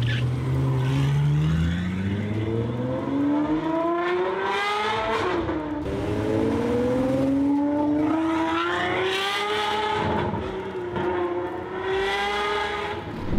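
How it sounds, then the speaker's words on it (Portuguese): A Ferrari 812 Superfast with an 800-horsepower V12 roars through repeated rising revs, each climbing pitch sweep followed by a shift, loud and close. "Ela tem um motor V12 com um dos roncos mais bonitos que literalmente existem no mundo."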